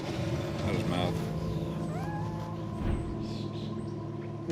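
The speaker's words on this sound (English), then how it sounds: "These are young kittens, boy." Young orphaned kittens meow in short, rising cries, several calls scattered across the moment, heard close alongside people talking and some background noise.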